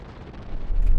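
A Ford Bronco with tuned King shocks rumbles along a dirt track, a dense low roar of engine and tires that swells louder toward the end with no talk over it.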